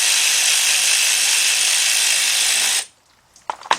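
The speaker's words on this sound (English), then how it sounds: "what I use is the 4-inch 3/8 drive extension and my 10mm swivel socket" A ratchet on a 4-inch 3/8 drive extension with a 10mm swivel socket loosening a bolt on a Chrysler timing cover; a loud continuous whirring run for nearly three seconds, then silence and a few faint clicks.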